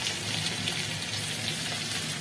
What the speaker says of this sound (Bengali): এটা একটু ভাজছি।